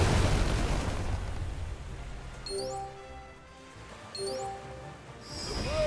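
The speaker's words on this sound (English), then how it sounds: "This is how you handle a cannon!" Cannon fire in the naval game Uncharted Waters Origin: a deep rumbling boom opens, followed by a couple of sharp metallic whooshing shots with ringing tones, fairly quiet overall amid game sound effects.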